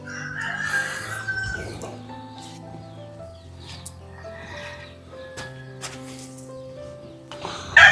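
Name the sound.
native and Texas chickens clucking and crowing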